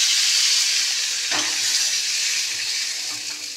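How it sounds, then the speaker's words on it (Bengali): Water goes into a hot pan of spicy puti fish curry, releasing a loud, broad steam hiss and sizzle that gradually settles, with no voices. "এবার জলটা দিয়ে দিচ্ছি।"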